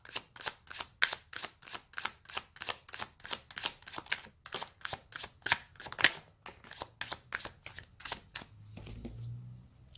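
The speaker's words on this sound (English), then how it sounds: "Let's pull some suggestion cards to end for the day." Tarot cards being shuffled, a close, even run of crisp riffling snaps in a steady rhythm, ending with a soft handling rustle, no talk.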